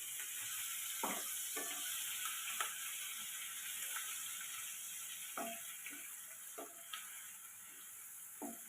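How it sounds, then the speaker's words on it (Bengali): Bay leaf, dry red chilli, whole garam masala and ground onion paste fry in hot oil for a prawn malai curry, a constant close sizzle broken by occasional scraping stirs of a spoon, without talk. "তারপর ওই তেলের মধ্যেই তেজপাতা, শুকনো লঙ্কা আর গোটা গরম মশলা ফোড়ন দিয়ে দেব।"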